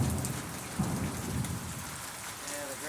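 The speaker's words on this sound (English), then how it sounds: "It's lightning and thunder, buddy. We're having some rain finally." Rain pours steadily outdoors during a thunderstorm, with a low rumble of thunder rolling through near the start and no one speaking.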